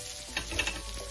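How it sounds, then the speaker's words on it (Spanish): Soft steady sizzling of spices frying in a pan for pickled serrano chiles with nopales, with a few faint clicks and stirring sounds, no voices. "ya los dejé que se estuvieran ahí friendo por un ratito."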